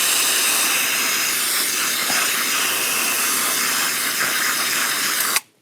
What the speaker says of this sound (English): So I need to not squirt it directly in like that.